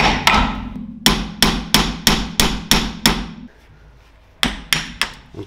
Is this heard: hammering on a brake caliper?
yes